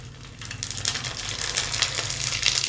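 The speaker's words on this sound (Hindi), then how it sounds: "तो मैं कुछ फ्राई कर रही हूँ और थोड़े थोड़े छोटे डाल रही हूँ" Small gol gappay puris fry in hot oil with a steady, close crackling sizzle that grows busier and brighter after the first half second.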